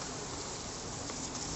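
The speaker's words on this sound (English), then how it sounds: "we're starting to see some bees here" Honey bees in a top bar barrel hive give a steady, close buzzing drone that stays even throughout, with no voices present.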